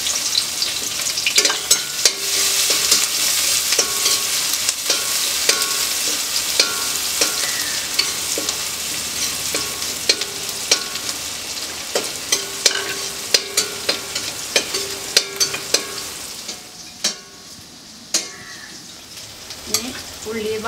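Chopped onion and garlic sizzle and crackle in hot coconut oil for a koorka dish, loud and continuous, with repeated sharp clacks of a spoon stirring the pan.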